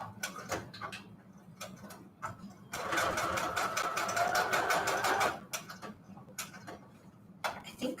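Close by, a sewing machine sews a straight stitch on bedsheet fabric for notecards, first in short ticking bursts, then in one sustained run of about three seconds, then in more short bursts.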